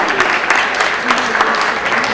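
Town hall audience clapping in a meeting room, a steady wash of applause from a crowd with a voice faintly underneath, sustained throughout.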